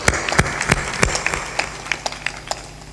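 A small audience at a spiritual gathering claps in scattered, uneven bursts, with individual sharp claps standing out close by rather than a dense roar.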